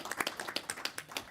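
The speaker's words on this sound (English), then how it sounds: "Yeah, you can clap." Audience members at a school board of education meeting clap, a quick run of sharp, fairly faint claps in brief irregular rhythm, lasting only a moment.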